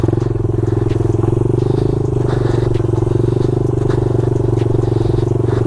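A small dirt bike engine idles and runs steadily with a rapid, throbbing putter, close by and constant throughout.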